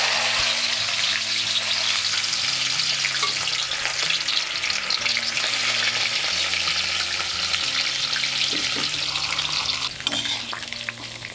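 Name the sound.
okra (bendakaya) frying lightly in oil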